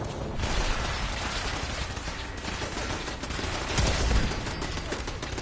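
Gunshots in Fallout 4, a continuous loud barrage of rapid fire with dense crackling and heavy thumps throughout, close and without talk.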